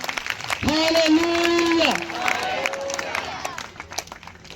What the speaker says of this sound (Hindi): अगर चाहते तो जोरदार तालियां बजाएंगे, जोर से जोर से जोर से।